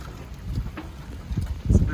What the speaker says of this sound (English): It's been very windy.